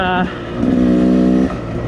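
A 2019 Beta 300 Xtrainer two-stroke enduro motorcycle engine revs, with a sharp higher whine at first, then a buzzing rise held for about a second before dropping off.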